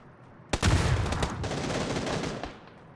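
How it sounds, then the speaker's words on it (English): Loud burst of gunfire in PUBG: Battlegrounds, a sharp shot followed by about two seconds of dense, rapid automatic fire that fades out, with no talking. "Somebody else is shooting at me."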